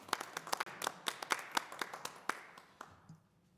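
A few people clap after a presentation at a lake and watershed district board meeting, with sparse, uneven, close hand claps that thin out and fade near the end.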